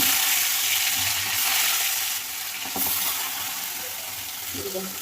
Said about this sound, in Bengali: এই যে ঝোলের মাছ ভাজা হয়ে গেছে।